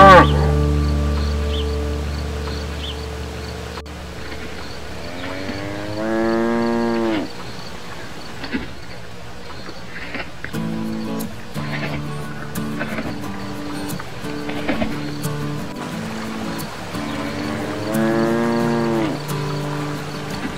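A cow lets out two loud, drawn-out moos, one early and one near the end, separated by a quieter stretch of rustling and low background noise.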